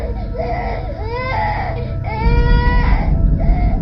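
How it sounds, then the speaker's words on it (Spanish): An infant cries loudly and close in an eerie horror scene, with rising and falling wails repeating over a low, rumbling background. "En ese momento, sin aviso, un llanto."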